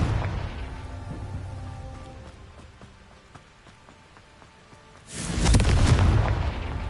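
A Confringo blasting spell detonates in the Hogwarts Legacy video game: a sudden loud booming burst after a quieter stretch of ambient game sound, with a rumbling roar that lingers to the end.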